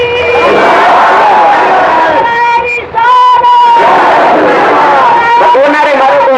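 A large crowd at a religious gathering chants slogans in unison, loud and sustained, with massed voices rising and falling together and a brief pause between calls.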